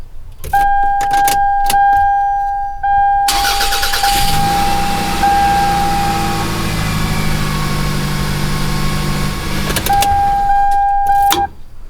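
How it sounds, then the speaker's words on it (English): A 2001 Toyota Camry 5S-FE four-cylinder engine cranks with a steady whirring starter, catches and rumbles into a rough idle, close and loud, with warning chimes before and after. "Let's see how this car starts up now."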